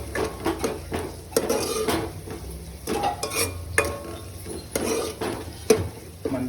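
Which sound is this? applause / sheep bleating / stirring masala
stirring masala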